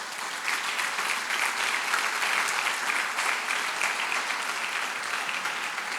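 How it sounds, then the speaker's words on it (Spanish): Steady applause from a church congregation during a Spanish-language sermon, a dense, continuous wash of clapping held at an even, moderate level throughout. "Denle un aplauso al Señor."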